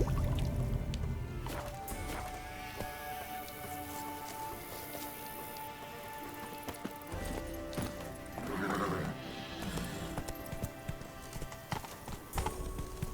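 Roach the horse in The Witcher 3 Blood and Wine trots with steady clip-clopping hooves and a neigh, set against a busy game soundscape with a faint drip of water.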